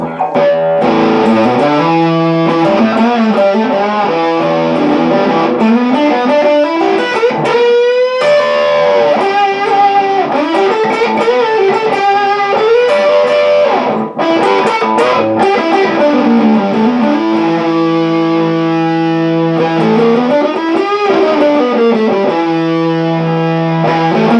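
Distorted electric guitar on the bridge pickup of a Squier Bullet Mustang, playing chords and melodic lines, loud and continuous, with a bright, biting edge.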